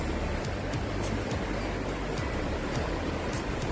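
The Fruit Garden waterfall, known as VIP Falls, at Courtallam Eco Park makes a steady, even rush of falling water at moderate distance, continuous throughout with no voices.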